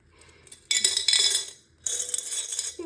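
A glass Nutella jar being handled, with close, bright clinks and rattling scrapes in two noisy bursts separated by a short pause, no voices.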